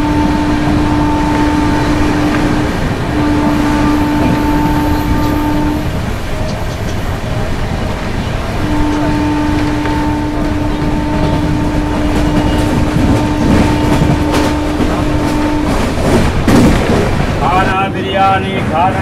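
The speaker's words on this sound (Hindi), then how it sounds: "हम लोग स्किप करने वाले हैं देउल्टी स्टेशन को पूरी 130 के रफ्तार में" Howrah-Bengaluru Superfast Express 12863 running at 130 km/h at night, heard from inside a general coach: a loud steady rumble and rattle with sustained horn-like tones, wind noise and brief voices near the end.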